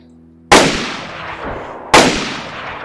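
Two loud, close gunshots in the video game DayZ, sharp cracks roughly a second and a half apart, each trailing off in a short echo with no talking.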